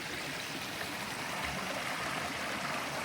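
A stream on the Beara Way in Ireland runs down into a river, giving a constant close rush of flowing water that holds steady and even for the whole stretch.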